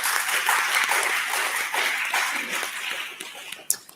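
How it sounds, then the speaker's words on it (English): A conference audience at a policy dialogue applauds at the close of the day, a dense round of clapping that holds steady and then thins out into a few scattered claps. "now it's late, and I would say time for applause."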